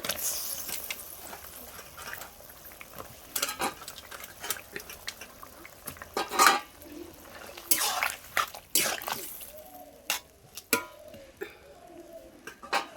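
Pieces of eggplant drop into a pan of simmering fish curry with murla fish, bitter gourd and potato. Close wet splashes and soft clatters come in irregular bursts, followed by quieter bubbling and stirring.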